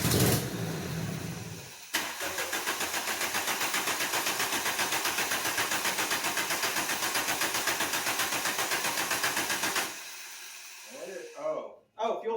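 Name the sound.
VW ABA 16v turbo engine being started and idled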